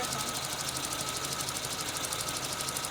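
A Suzuki Samurai engine running during an ignition timing check, a rapid, even mechanical ticking and knocking rhythm over a steady hum, fairly faint and unbroken, with no talking.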